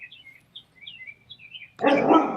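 A dog indoors gives a burst of loud, close barking at the end, after a stretch of faint high chirps in the background.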